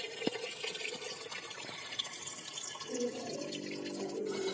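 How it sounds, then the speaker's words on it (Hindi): Rice is washed under running tap water in a kitchen sink, with a steady splashing flow and swishing of grains. Water fills a vessel near the end. "सबसे पहले हम चावल को धो लेंगे"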